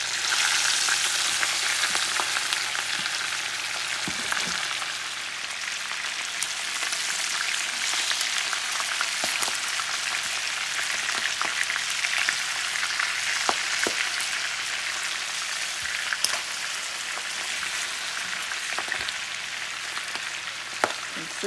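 Chicken drumsticks fry steadily in butter in a pan, giving a constant dense sizzle with scattered pops and crackles that runs unbroken from start to finish, close and fairly loud.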